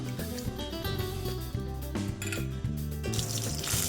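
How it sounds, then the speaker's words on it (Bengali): Water runs from a kitchen tap while rice is washed, a continuous close splashing and trickling with small sloshing shifts and no talk. "তারপর রান্নাঘরে এসে ভাত বসানোর জন্য চালটা ধুয়ে নিচ্ছিলাম।"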